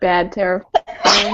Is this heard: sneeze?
yes